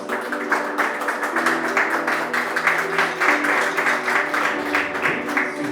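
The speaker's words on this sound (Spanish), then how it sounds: "Démosle un aplauso al Señor." Church congregation gives sustained applause to the Lord during a Spanish-language service, a steady wash of many hands clapping over a low musical drone.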